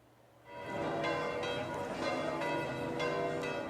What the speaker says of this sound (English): Early morning in St. Peter's Square, the bells foretell some saintly business.